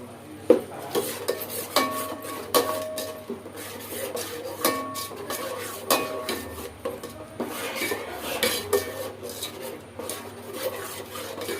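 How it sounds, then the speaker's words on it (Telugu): Ginger paste is stirred in a pan with a spoon, making repeated close rasping scrapes and metal-on-pan knocks in an uneven, steady rhythm throughout. "ఇప్పుడు అల్లం పేస్ట్ వేసుకొని కలుపుకోవాలి"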